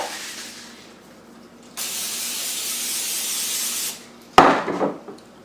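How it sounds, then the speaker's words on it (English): Cooking spray hisses onto a baking pan in one steady burst of about two seconds, close and fairly loud, followed by a clatter as the pan is set down, while fresh bread rolls are being readied. "Spray my pan."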